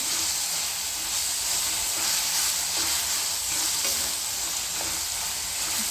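Eggplant for bharit sautés in an oiled pan with a dense, continuous close-up sizzle and hiss, while a spatula stirs through it in soft scrapes.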